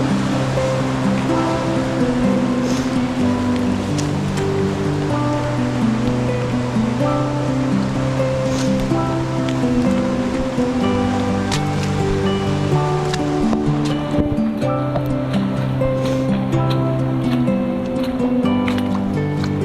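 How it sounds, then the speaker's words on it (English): Heavy mountain runoff pours down a walking track on an alpine trail in winter, a loud, steady, close rushing and churning of water that never lets up. "Amazing amount of water coming down."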